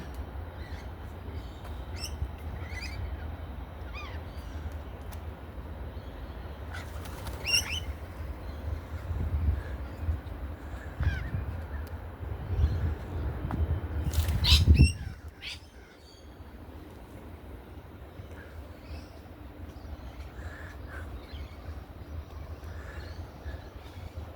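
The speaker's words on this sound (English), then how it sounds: "behind us, we're getting followed by the cutest little birds, the rosellas" Rosellas call with scattered chirps and squawks around old crypts, over a dense rushing background that swells to a loud burst before dropping to a quieter, sparser stretch with occasional calls.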